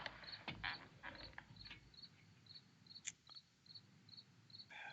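Crickets chirp in a steady, evenly spaced pulse through a quiet night, soft and at a middle distance, with a few brief knocks and rustles near the start.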